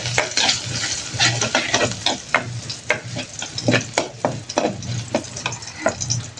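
Garlic fries in a small amount of cooking oil with a steady close sizzle, broken by repeated stirring scrapes at an irregular rhythm, and no voices.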